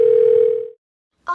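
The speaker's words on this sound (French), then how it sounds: "Kara appelle les amis sur leur téléphone mobile." A mobile phone call tone: one steady, loud electronic tone holds for about three quarters of a second, then stops and leaves silence until a voice begins near the end.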